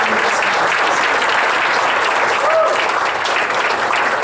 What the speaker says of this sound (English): Let's have a round of applause for all of those wonderful sponsors.